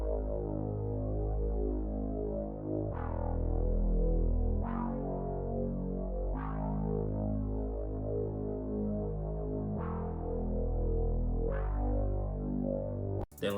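Eternity bass synth from an analog sound bank in a drill beat: deep sustained low bass notes that glide downward, changing pitch every couple of seconds, heard alone and loud.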